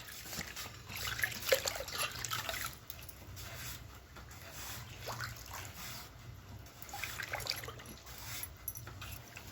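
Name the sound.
washing grated potatoes in water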